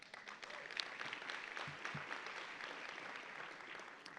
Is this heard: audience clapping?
yes